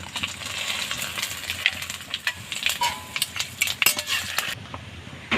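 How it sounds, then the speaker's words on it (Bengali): Bay leaf, cumin seeds and dried red chilies sizzle in hot oil as a chicken curry is started, with a steady crackle broken by sharp spoon and pan clinks, close and moderately loud, no voices. "এখন তেজপাতা জিরে আর শুকনো লঙ্কা"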